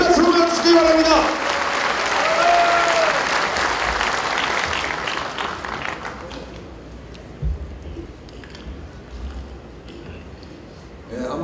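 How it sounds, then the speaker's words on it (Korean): Audience applause at a national representatives' rally welcomes a speaker, loud and dense at first, then thinning over several seconds into scattered claps and room murmur. "여러분 큰 박수로 맞추시기 바랍니다."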